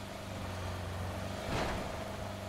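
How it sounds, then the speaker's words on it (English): A car engine in the battle-royale game PUBG drones steadily, then swells briefly as it passes close by before settling back into a low hum. "Car behind us."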